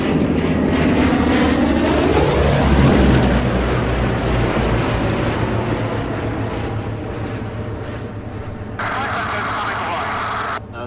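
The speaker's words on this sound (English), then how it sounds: "Powered by the Bristol Mercury 9-cylinder engine, the Lysander was hopelessly out of date" Two Westland Lysander aircraft powered by Bristol Mercury nine-cylinder radial engines fly past, a loud continuous engine roar that swells and then slowly fades, with a commentator talking over the noise.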